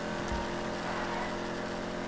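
A car engine in GTA 5 roars steadily, a continuous close drone that stays at a fairly even level throughout with no talking over it.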